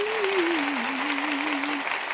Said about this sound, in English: Let's give you a little applause for the effort and the adventure.